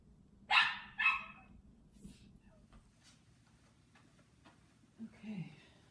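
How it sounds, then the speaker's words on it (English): Two short bursts of puppy barking near the start, fairly close and moderately loud, followed by a quieter stretch with faint yips and a brief sound near the end over a low domestic background hum. "You can hear the puppies."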